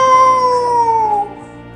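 A human voice imitates a cat's meow, a single drawn-out, slightly falling call that fades toward the end, heard alone in a playful clay-modelling session for kids.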